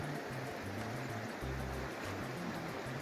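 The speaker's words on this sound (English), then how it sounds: "River's flowing." River flowing at Watson Lake near Bellvue, Colorado, a steady low rushing wash of water that holds constant throughout, with some faint lower rumbling.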